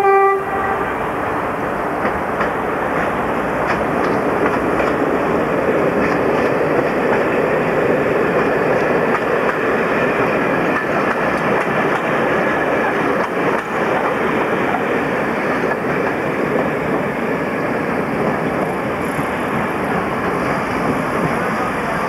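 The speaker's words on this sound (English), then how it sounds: "the next train on the up main line was a DMU, seen here having just passed Newbridge signal box heading towards Grimsby Dock Station" A diesel multiple unit train in 1980s Grimsby rumbles steadily past on the up main line near Newbridge signal box, a continuous loud roar filling the whole stretch without letup.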